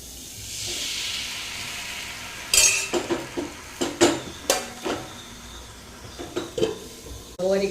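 Dosa being made on a hot pan in a home kitchen: steady hiss and sizzle with a series of sharp metallic clinks and scrapes of a utensil against the pan, close and clear, no talking.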